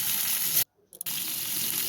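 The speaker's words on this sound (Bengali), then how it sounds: "কড়াইটা ভালো করে গরম হয়ে গেলে মাছ ছেড়ে দেবো" Fish sizzles steadily in hot oil in a wok, a loud continuous frying hiss broken by a brief near-silent gap before the sizzle resumes.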